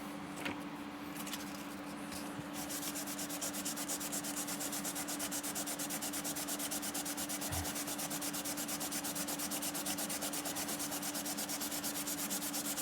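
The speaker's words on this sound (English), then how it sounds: "do a little wet sanding here." Steady, rhythmic rubbing of wet sandpaper on a hard 3D printed plastic part, continuous and close, with a constant low hum in the background.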